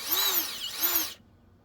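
A power drill bores pilot holes into a support during an STO 325 installation, giving one short whining burst of about a second with a pitch dip midway, then stopping abruptly.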